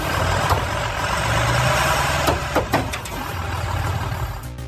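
A bus engine runs hard while pulling on a tree, holding a steady low idle-like rumble close by, broken by a few sharp cracks and rattles from the straining wood.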